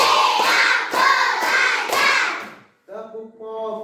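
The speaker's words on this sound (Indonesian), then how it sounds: "Tepuk 1, tepuk 2, tepuk 3, tepuk 4, tepuk 5," Children in a classroom clap in unison in a counting clap routine, several sharp group claps in an even rhythm mixed with chanting voices, followed by a brief pause and a voice.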